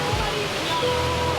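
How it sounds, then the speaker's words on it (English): Two-tier waterfall on Lombok Island, Indonesia, a steady broad rushing roar of falling water, continuous and close, with a voice briefly present. "Beautiful waterfall, two-tier waterfall with a nice rainbow."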